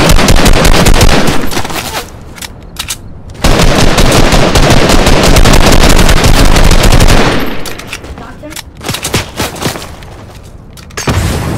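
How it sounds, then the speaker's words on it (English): Gunfire in a shooter video game, with bursts of rapid machine-gun fire and loud shots cutting in and out across the clip, close and dense at times, with short quieter gaps between volleys. "I hear shots, guys. Guys, I hear shots."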